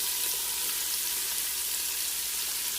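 Celery and onions sizzling in bacon fat for homemade loaded potato soup, a loud close, even hiss of frying that holds steady without pause.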